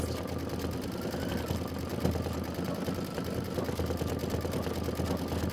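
A multi-needle embroidery machine stitching out a winter quilt block, a steady rapid mechanical whirring and clatter at an even rhythm, close and continuous with no talking.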